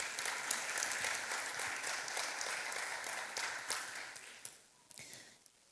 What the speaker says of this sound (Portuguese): Aplaudo a palavra do Senhor